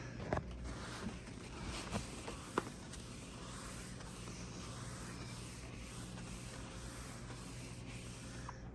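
A stainless steel refrigerator is wiped down with Pledge multi-surface cleaner, a faint continuous rubbing swish of cloth on metal with a few light taps and clicks.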